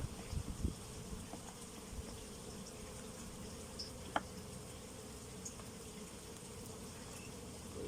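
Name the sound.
honeybees buzzing while a beehive is opened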